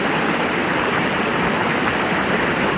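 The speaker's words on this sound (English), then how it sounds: "You can go to a part of the stream where there's a waterfall in the cave to bring down more water." A stream with a waterfall inside a cave rushes in a dense, steady roar of flowing water that stays loud and even throughout, with no voices.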